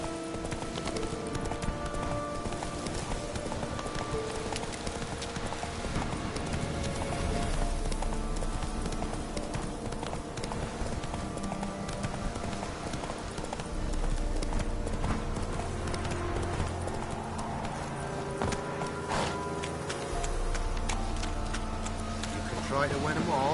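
A horse gallops in The Witcher 3: Wild Hunt, its rhythmic clip-clop hoofbeats steady and close throughout, with game ambience and occasional talk over it.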